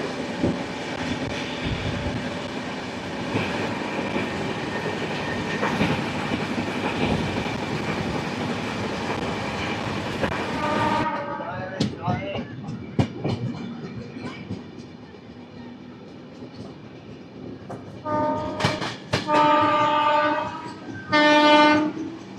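Duronto express 12245, Howrah to SMVT Bengaluru, runs through Kuppam railway station in Andhra Pradesh: a loud, steady rolling rumble of the moving train gives way to sharper wheel clatter and several near, blaring horn blasts at the end.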